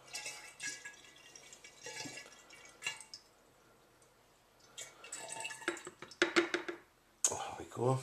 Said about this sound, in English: so we'll just pour that in there.